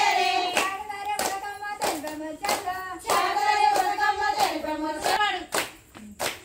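Steady rhythmic handclaps from a village group accompany a sung Holi folk tune, the claps crisp and close, falling evenly over the voices until a slightly looser final pair.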